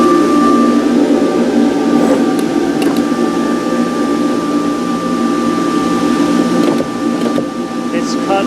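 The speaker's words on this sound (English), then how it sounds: "We'll start up the vacuum." A vacuum system on a turbo cutting machine, used to cut seat pleats for Mercedes W113 Pagoda upholstery, drones loudly and steadily with a constant mechanical hum and faint tonal whine.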